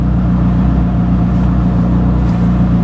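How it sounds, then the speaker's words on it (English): A Koenigsegg CC850 engine idles loud and close with a deep, steady rumble while the clutch is dipped for a shift through its manual H-pattern six-speed gearbox, with no talking over it. "I can dip the clutch and put it into the H-pattern 6-speed box"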